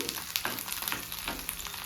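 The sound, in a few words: green chillies, ginger and curry leaves frying in ghee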